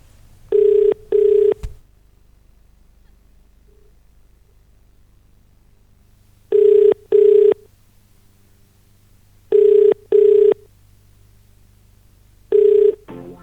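A phone rings out while calling a state legislator (MLA): loud electronic double-pulse ringback tones come four times, separated by long silent pauses.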